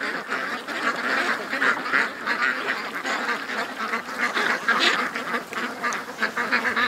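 A dense chorus of ducks quacks continuously from bulrushes, loud, overlapping calls repeating in quick, irregular bursts with occasional honk-like notes, no talking over them.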